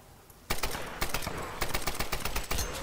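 Machine-gun fire in a Tomb Raider multiplayer match: loud, rapid bursts of shots begin after a quiet half-second and come in several clustered volleys with short gaps between them.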